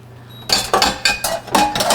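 An induction pan being grabbed and set on a stovetop, with a series of loud, close metallic clanks and clinks in quick, uneven succession.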